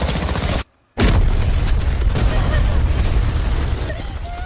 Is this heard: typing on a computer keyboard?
no